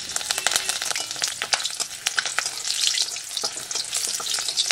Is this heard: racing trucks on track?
no